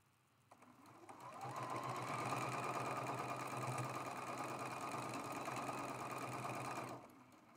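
Sewing machine running steadily for about six seconds while chain piecing quilt block units for a zigzag squares block, a loud continuous mechanical whir with a low hum, starting and stopping abruptly, no talking.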